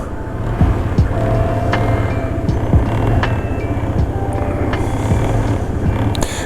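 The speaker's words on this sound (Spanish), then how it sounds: "La moto está haciendo un ruido muy extraño que parece como un tratorcillo." A steady, rough motorcycle engine drone chugs throughout at close range, with a low, uneven tractor-like rumble from a fault and occasional clicks.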